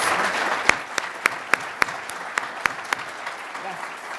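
An audience at a church gathering gives warm welcoming applause, a soft diffuse patter with several sharp, louder individual claps standing out at a steady pace across the few seconds.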